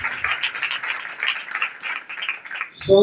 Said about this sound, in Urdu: آئیے زوردار تالیاں خدا زندہ خدا سے